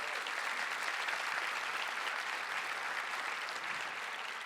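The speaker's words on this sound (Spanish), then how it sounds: "Dale un fuerte aplauso al Rey" A church congregation claps during a Spanish-language sermon, producing sustained, even applause that holds steady throughout, moderately distant and without voices on top.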